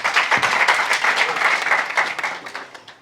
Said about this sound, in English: Please give them a round of applause, ladies and gentlemen.